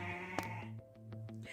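A sheep bleats in a long wavering cry, loud and close, with a few sharp knocks partway through.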